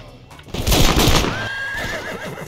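A horse in the video game Red Dead Redemption gives a loud, close whinny that rises and wavers before trailing off. Hoof clatter and game noise sit underneath, with no speech.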